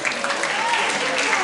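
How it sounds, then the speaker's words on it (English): Dense, steady applause from a sizable audience fills the short moment, even and sustained from start to finish. "Let us give ourselves a round of applause."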